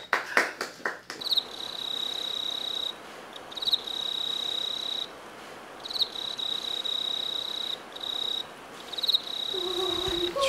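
Crickets chirp in a high, steady trilling that comes in long bursts separated by brief pauses, fairly loud and close, after a few sharp opening hits, for a cartoon cricket band.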